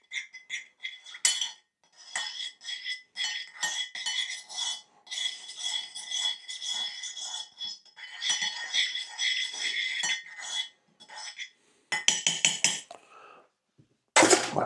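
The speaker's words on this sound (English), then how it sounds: "So I'm just going to give that a bit of a mix" A spoon clinks and scrapes in a bowl while mixing a honey and mustard salmon marinade. The taps come in quick, uneven bursts with short pauses between them, and the sound is close and fairly light.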